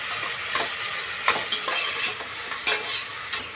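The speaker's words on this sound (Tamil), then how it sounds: "கண்ணாடி பதமாகவே வதக்கணும் மெதுவாக" Onions sautéing slowly in a pan for a home Sunday lunch, a steady soft sizzle with occasional scraping stir strokes, close and continuous, no talking.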